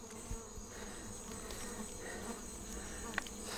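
Wasps and bees buzz in a continuous insect drone, fairly faint, with occasional louder passes of individual insects close by over a soft background hum.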